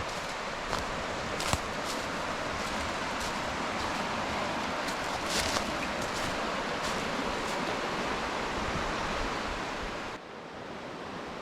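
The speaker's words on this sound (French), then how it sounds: "ces cascades jusqu'au chalet." Cascades of the Jacques-Cartier River, heard from a wooded chalet on its bank, make a steady, dense rush of water that holds an even level throughout and drops slightly near the end, with no voices.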